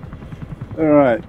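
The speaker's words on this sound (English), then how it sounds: "So that's the two enemy helicopters" Helicopters in the video game Comanche give a rapid, rhythmic rotor chop, with a louder droning tone swelling briefly near the end, all fairly close and steady.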